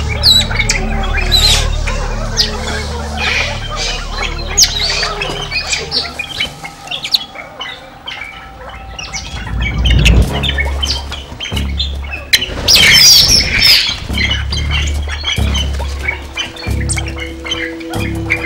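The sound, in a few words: birds squawking at the royal palace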